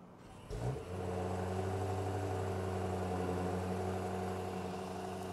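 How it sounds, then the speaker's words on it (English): A 2025 BMW X6 M Competition V8 is cold-started remotely, firing with a brief rise before settling into a steady, even, low idle hum that holds close and unbroken. "I don't think that V8 cold start caused much of a fuss, and now it's settled down to an even more reserved idle"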